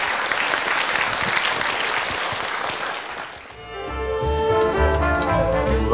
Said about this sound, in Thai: ขอเสียงปรบมือดังๆให้กับทั้ง3ท่านด้วยครับ